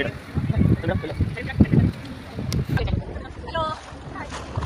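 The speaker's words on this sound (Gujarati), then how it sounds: "સ્પીડ રાઇડિંગ માટે સ્પીડ બોટમાં જઈએ છીએ" A speedboat's motor drones and wind buffets the microphone while seawater rushes past at Mandvi beach; people talk and shout over the noise.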